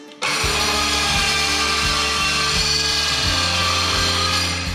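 A circular saw cuts wood trim with a loud, continuous whine close by. A faint rhythmic pulse runs under the blade noise as it works through the piece, and no talking is heard.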